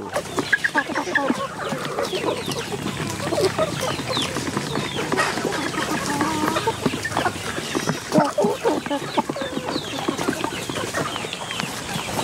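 Free-range native chickens cluck and crow continuously around a farm with mango trees, many birds close by in a dense, busy chorus.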